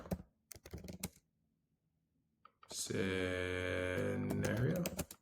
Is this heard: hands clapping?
no